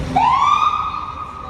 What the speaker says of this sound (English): Now you got an ambulance with an injured person.